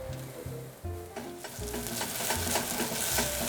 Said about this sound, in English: You want to sear the oregano a little bit to bring out the aromas